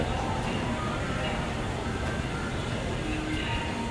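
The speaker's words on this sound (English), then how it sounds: "The trains are working" A New York City subway train in Manhattan rumbles along with a steady, continuous roar and rattle of rail noise, filling the space without pause.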